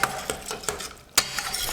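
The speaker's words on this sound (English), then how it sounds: "measure 2 tablespoons, maybe 1/4 cup of ketchup, and then stir it in the stew" Cooking spoon stirring ketchup through a pot of chicken stew, giving soft, close scraping and clinks that recur at an irregular rhythm over a low simmering hiss.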